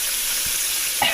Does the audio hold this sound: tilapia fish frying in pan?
yes